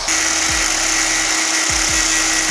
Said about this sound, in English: Got my angle grinder.